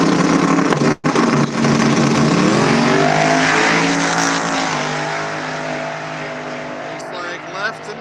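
Two drag race cars launch side by side at a no-prep bring-your-own-tire event, a loud sustained engine roar with rising harmonic pitch that holds for several seconds, then fades slightly as they pull away.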